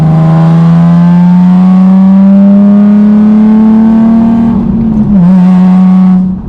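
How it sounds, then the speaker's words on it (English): Nissan 370Z Nismo engine holding a steady, rising drone under load, then dipping briefly as it brakes into a turn before pulling again as it accelerates out; loud and close, no talking. "So then hitting the brakes, coming around the turn and accelerating."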